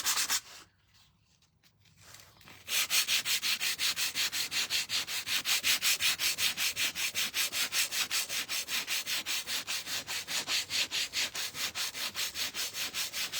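Sandpaper is rubbed back and forth over painted wood to distress it, in a fast, even run of scratchy strokes that is close and steady. A short pause comes near the start, and no one speaks.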